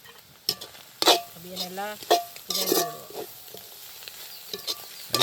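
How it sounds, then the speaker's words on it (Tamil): Ingredients sizzling and being stirred in a pan while cooking a quick village-style lunch, with scraping stirs and a steady frying hiss under intermittent nearby talk. "எல்லாம் நல்லபடியாக வதங்கி வரட்டும்."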